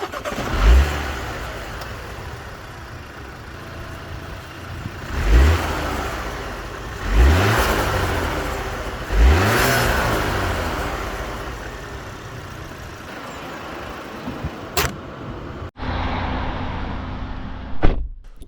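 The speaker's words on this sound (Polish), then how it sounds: "ale czasami ładnie słychać syczenie turbo" A MINI Cooper S F66 with a 2-litre turbocharged four-cylinder petrol engine revs up several times in repeated bursts with a faint turbo hiss, followed by a door-like thunk and a brief idle near the end.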